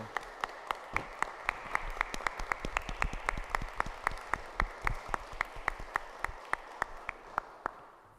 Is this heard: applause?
yes